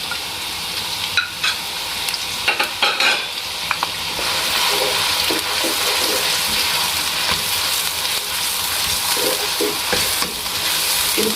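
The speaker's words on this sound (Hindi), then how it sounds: "जी तो ये 1/4 कप मैंने ऑयल लिए, इसमें भी ये चॉप प्याज डालेंगे।" Chopped onions in a quarter cup of hot oil sizzle loudly and continuously, a dense hiss close by, with a few clanks and stirring knocks near the start.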